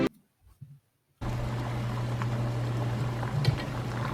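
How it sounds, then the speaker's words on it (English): Water boiling in a pot for blanching a tomato: after a quiet start with a brief clatter, a steady low bubbling rumble sets in and continues close by, with a few small splashes and no talk. "putting it in boiling water like so."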